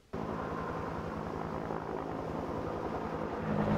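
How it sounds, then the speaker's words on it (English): A helicopter hovers over a fire-burned area of Boulder during telecom pole replacement, its steady, loud rotor and engine drone holding throughout and swelling slightly near the end, with no voices. "helicopters hovered over the city in an effort to replace telecom poles in the burn area"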